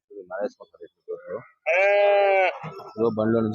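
At a sheep market in Gudur, a loud, drawn-out sheep bleat rings out close by between bursts of talking, with another shorter bleat near the end.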